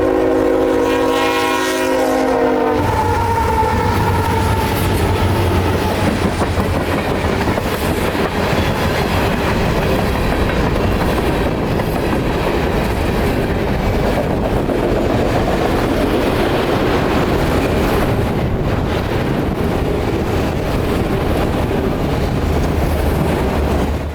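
Short freight train passing a grade crossing at about 35 miles an hour in wintertime northern Georgia, its horn sounding loud and close at the start before a steady rumble and clatter of railcars carries on to the end.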